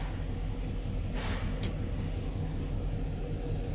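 A Chevy Silverado engine with a misfire idles after starting, a steady low rumble that holds evenly throughout, with a brief hiss partway through.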